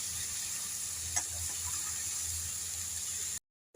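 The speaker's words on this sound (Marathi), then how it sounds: "सर्व मिश्रण भाज्या आपण त्या मिक्स करून घेणार आहोत मसाल्यामध्ये" Mixed vegetables hiss and sizzle as they are stirred into frying masala in a pan, a steady close sizzle with a brief clink of the spoon before it cuts off.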